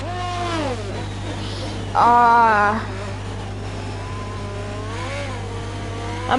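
Formula 1 car engines race at Monza in the F1 2021 video game, a steady engine drone with a louder high revving burst midway, heard under continuous excited commentary.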